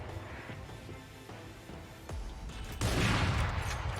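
First-person shooter gunfire at a high-refresh, low-latency gaming setup: a faint shot near 2.1 s, then a louder burst at about 2.8 s that rings on to the end over low game background noise.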